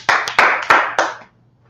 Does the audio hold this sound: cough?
no